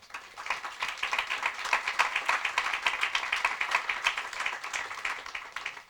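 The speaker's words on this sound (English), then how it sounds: "I think it'd be appropriate to give them a special round of applause" An audience claps at the grand opening of a Phase II housing development, a steady round of applause that swells and then sustains, fairly distant and without speech over it.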